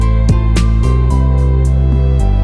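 A cowbell pattern in a 90s R&B slow jam beat repeats with velocity descending hit by hit, giving an echoing, delay-like fade, layered over deep sustained bass and chords, loud and close with no talking.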